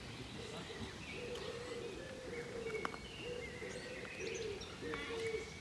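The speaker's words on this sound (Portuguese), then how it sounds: "Os pássaros." In a Swedish forest, birds chirp and sing at low volume, with a soft repeating cooing call and scattered higher tweets over a quiet background.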